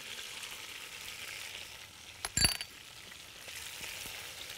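Ginger and scallions sizzling in a hot pan, a soft steady frying hiss broken by a brief clink of a utensil near the middle.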